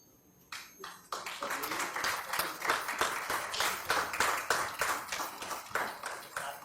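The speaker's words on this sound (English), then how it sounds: "A huge round of applause for our chairpersons" Audience applause at a medical education symposium, starting with a few scattered claps then swelling into sustained, steady clapping from a room full of people.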